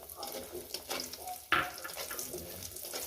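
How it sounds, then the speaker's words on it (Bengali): Bori, small lentil dumplings, frying in a little oil in a pan, giving a soft steady crackle and hiss with a single sharp clink partway through. "এরপরে দিয়ে দেবো বড়িগুলো ভেজে নেব।"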